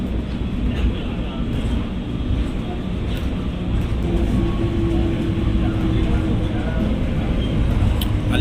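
Mumbai monorail train near the Wadala depot, a loud steady low rumble of rail running with a faint hum throughout, heard up close with continuous background noise.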